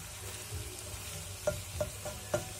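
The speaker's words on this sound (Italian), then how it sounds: "la zucca, le patate e la pancetta affumicata. Adesso faccio cuocere un pochetto." Pumpkin, potatoes and smoked pancetta cook in a pan with a soft, steady sizzle, punctuated by a few brief stirring clinks near the end, and no talk.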